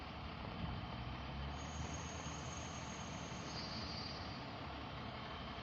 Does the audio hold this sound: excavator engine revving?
yes